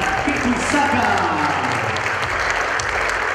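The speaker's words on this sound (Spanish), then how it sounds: "los aplausos fuertes para recibir a la señorita Jessica Albarracín" Loud applause from a crowd welcoming a quinceañera at her fifteenth birthday celebration, steady and dense throughout, with voices faintly mixed in.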